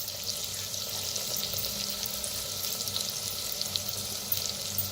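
Asafoetida, onion and a ground garlic and green chili paste fry in a pan for a bitter gourd dish. The sizzle is faint and steady and crackles softly throughout, with no voices.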